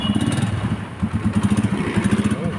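A Rusi Macho 150 motorcycle engine cranks on the push-button starter and catches, settling into a rough, rapid putter with clattering pulses, fairly close.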